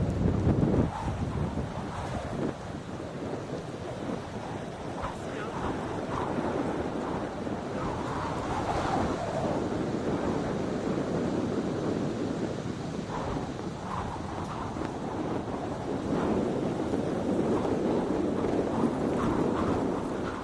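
Strong wind gusts buffet the microphone on an exposed mountain ridge in the Hautes-Alpes, France, a loud continuous roaring rush that swells and eases over time with no voices.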